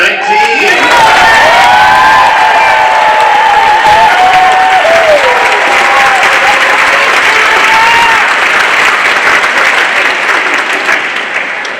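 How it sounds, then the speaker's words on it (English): A large audience at the Bastyr University 2019 commencement ceremony applauds loudly and continuously, with scattered cheers and whoops that fade slightly toward the end. "There'll be a few times of clapping today, so get used to it."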